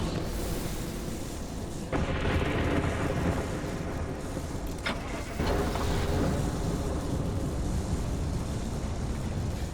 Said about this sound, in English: Thankfully, the storm seems to be passing now.